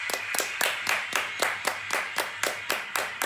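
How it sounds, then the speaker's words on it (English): A small group claps in a steady, loud rhythm of sharp broadband beats, nearly a dozen in just over three seconds, close to the microphone with no talking, a round of applause on a TikTok road-trip livestream. "You're going to get a round of applause because you're an amazing person."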